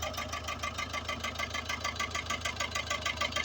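A vintage 1968 WainRoy backhoe engine runs while digging a septic tank hole, a close, steady rhythmic chugging with a fast knocking pulse that holds even throughout.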